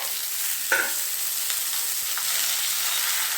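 Cut carrots, squash, drumsticks and beans go into hot tempering oil for sambar, giving a sharp burst of sizzling followed by a steady hiss of frying with light stirring scrapes.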